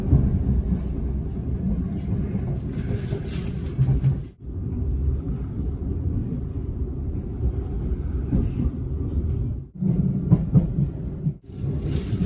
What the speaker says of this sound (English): gonna get the train now.